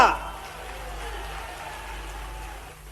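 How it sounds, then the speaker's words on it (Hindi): Crowd at a political rally claps in a broad, steady wash of applause that holds evenly for a few seconds, moderately loud and fairly close, with no clear voice on top. "ताली वाली बजा के बताना।"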